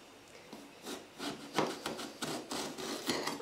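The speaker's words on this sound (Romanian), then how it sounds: "Acum, tăiem vânăta felii, dar nu până la capăt." A sharp knife cuts eggplant into slices about 7-8 mm thick on a board, a run of soft close rasping strokes in a quick uneven rhythm.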